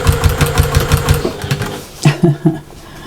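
Sewing machine stitching a backpack, running in a quick even burst of rhythmic thumps, then pausing and making a few slower separate stitches, close and fairly loud.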